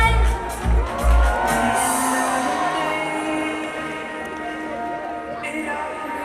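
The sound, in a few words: crowd applause and cheering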